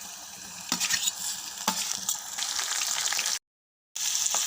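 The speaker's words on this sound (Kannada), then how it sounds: "ಇವೆಲ್ಲ ಚೆನ್ನಾಗ ಫ್ರೈ ಆಗಿಂದ ಈಗ ಟಮಾಟಿ ಹಾಕೊಳತ್ತೀವಿ ನೋಡ್ರಿ" Vegetables and tomatoes for veg palav fry in a pan with a bright, steady sizzle, broken by a few scraping stirs and a brief silence, close and without talk.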